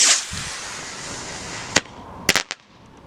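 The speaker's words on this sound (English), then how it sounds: "check out some of these more bang for your buck triple shot or triple report rockets" Triple report firework rockets go off outdoors in a breeze: a whoosh, then a sharp pop followed by a quick cluster of three small pops, nearby and fairly light.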